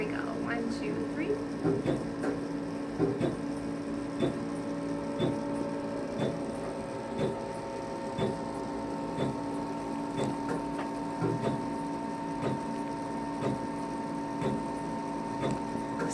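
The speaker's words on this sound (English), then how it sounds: "since it is an actual laser, you definitely want to protect your eyes as well as the patient's eyes while you're doing this treatment" A skin rejuvenation laser fires during a cosmetic treatment, giving a steady electrical hum with faint, repeated clicking pulses scattered across it, close and moderately quiet.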